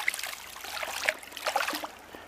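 A feisty rainbow trout, hooked on a Mepps Aglia Furia spinner on the Mersey River, thrashes at the surface. Close, irregular splashes and water slaps come in quick bursts over a couple of seconds, with no voices.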